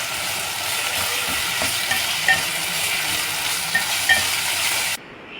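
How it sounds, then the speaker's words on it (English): Chili garlic sauce being stirred into a cooked chicken filling in a hot pan, a steady close sizzle with a few soft scrapes of the spoon, no voices. "And then we're going to mix it again."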